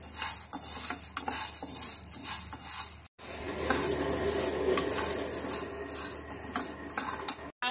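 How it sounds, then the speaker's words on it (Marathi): Dry dal lentils are roasted in a pan and stirred steadily with a metal spoon, giving continuous scraping and clinking against the pan with a faint sizzle, loud and close, with a brief pause partway through. "आता डाळ भाजून घेऊया।"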